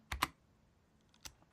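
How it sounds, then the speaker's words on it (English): A computer keyboard clicks as BASIC code is entered on a Raspberry Pi: two quick close keystrokes, a pause, then one more keypress, soft and alone in a quiet room. "So if I type print, and then I go shift, quote mark"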